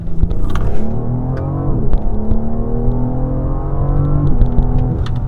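BMW M760Li pulling away in second gear, the engine note rising smoothly after the shift with a brief stepped change near the end, loud and close inside the cabin.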